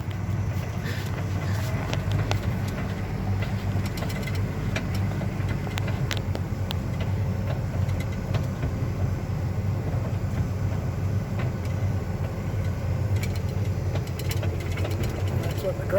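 Steady low tractor engine drone heard from inside the cab, constant and close, with people talking over it.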